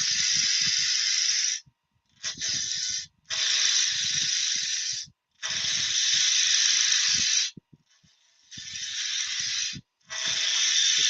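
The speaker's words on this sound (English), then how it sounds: "my compressor just clicked in. So I'm assuming I've got a leak on my compressor system somewhere." An air compressor's leak hisses loudly in long bursts broken by short gaps, with faint low knocking and rumble beneath, in a workshop where wood shavings are being made.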